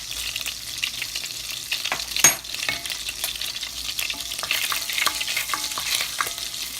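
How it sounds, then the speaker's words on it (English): Onions, peppers and garlic with chili flakes sauté in bacon fat, a continuous close sizzle broken by scraping stirs and one sharp clank of a utensil against the pan. "I'll saute everything else in the bacon fat and just use that"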